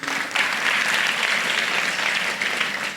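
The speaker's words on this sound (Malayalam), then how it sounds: "നന്നായിട്ട് കൈയടിച്ചേ." An audience at an acting workshop claps loudly and steadily for the whole stretch, a dense, even wash of applause with no break.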